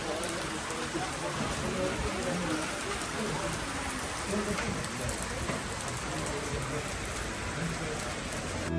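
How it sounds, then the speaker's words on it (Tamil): Heavy rain pouring steadily outdoors in Tamil Nadu, a dense, even hiss of drops on surfaces that holds at constant loudness throughout with no pauses. "மழை விடுன்னு பார்த்தா பேஞ்சிக்கிட்டே இருக்குது."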